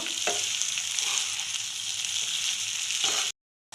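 Chow mein noodles being stir-fried and tossed with two spatulas give a continuous close sizzle with scraping clatters of the utensils, then cut briefly to silence near the end.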